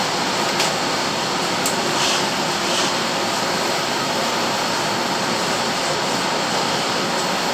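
Air hisses steadily in constant flow from an emergency escape breathing device mask, a continuous broadband rush at even loudness throughout, with a few faint clicks.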